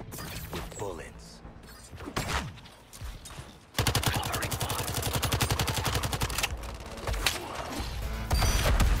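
Rapid automatic gunfire rattles through a Suicide Squad: Kill the Justice League fight, starting in scattered bursts and then becoming a sustained loud stream of shots over game noise and character voices.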